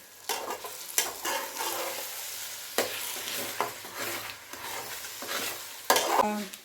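Eggs with salt being stirred in a pan for beetroot egg bhurji, with a sizzling frying bed and scattered scraping taps of the spoon against the pan, close and moderately loud, with no talking.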